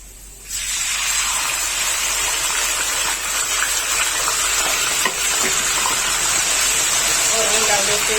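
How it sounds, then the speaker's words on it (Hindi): Golden-fried onions in hot oil flare into a loud, steady sizzle once garlic-ginger paste goes in, a close, continuous frying hiss with stirring scrapes and no clear talk throughout. "अभी हम इसमें डाल देते हैं लहसुन अदरक का पेस्ट।"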